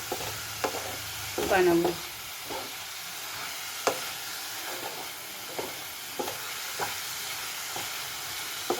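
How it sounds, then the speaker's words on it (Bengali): Grated coconut filling for steamed bhapa pitha being stirred in a pan, with soft scraping strokes at an irregular pace over a faint sizzle, plus a brief spoken word near the start. "এটা আমি যতক্ষণ নারকেলটা নরম হচ্ছে ততক্ষণ পর্যন্ত আমি এটাকে নেড়ে নেড়ে"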